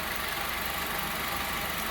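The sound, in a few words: Honda Civic 2014 engine idling, accessory belt tensioner noise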